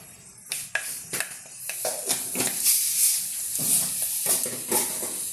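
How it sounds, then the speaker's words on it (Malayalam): Mustard seeds pop and spatter in a hot pan, sharp crackles bursting irregularly over a hissing sizzle, close and fairly loud. "ചട്ടി ചൂടാവട്ടെ കടുക് പൊട്ടി തുടങ്ങിയിട്ടുണ്ട്"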